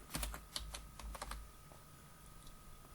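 A password being typed on a computer keyboard: a quick run of close, faint key clicks that trails off into quiet room hiss.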